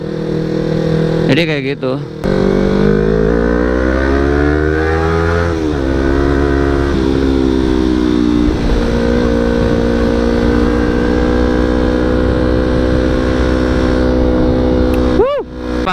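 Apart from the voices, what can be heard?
Yamaha R25 motorcycle revving with aftermarket exhaust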